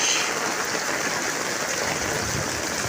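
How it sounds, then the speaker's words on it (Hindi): Steady, dense rain hisses without a break, a broad wash of drops pattering on surfaces close by, with no voices. "तूफानी बारिश"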